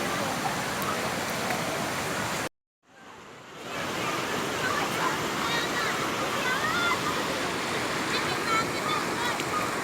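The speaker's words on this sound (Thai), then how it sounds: "น้ำไหลแรงมาก" Huai Chan waterfall in Sisaket rushes strongly as a loud, dense, continuous roar of falling water, broken by a brief dropout early on before the roar resumes steadily.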